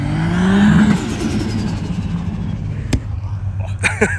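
A Nissan Skyline R34 revs on an ice track, the engine climbing loudly up close in the first second, then settling into a steady rumble with a sharp click and brief voices near the end.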